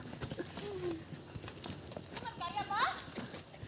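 A horse walks a trekking trail near Lake Holon with a rider aboard, its hooves giving soft, uneven clip-clops close by, mixed with faint voices and bird-like chirps.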